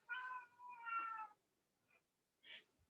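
Cat meowing nearby, a drawn-out two-part meow followed by a faint short chirp and a brief higher mew, soft and unaccompanied.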